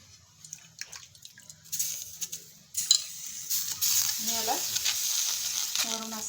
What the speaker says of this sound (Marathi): आपला तवा तापलेला आहे आपण ही भाकरी याच्यावरती टाकून घेऊयात